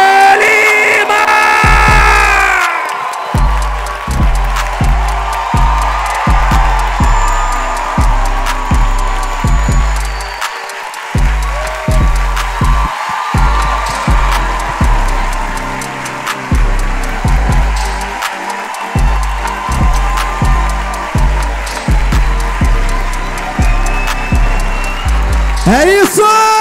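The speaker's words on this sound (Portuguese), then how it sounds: "Eu gostaria muito que vocês recebessem no palco, senhoras e senhores, o príncipe de Maricá, com muitas salvas de palmas, Douglas de Lima!" A comedy special audience claps and cheers as a comedian is called onto the stage, with an announcer's voice at first and then steady rhythmic clapping, whoops and crowd noise over music.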